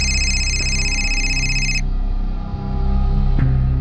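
A telephone rings with a bright electronic trill that stops abruptly partway through, followed by a low steady background hum and a faint click.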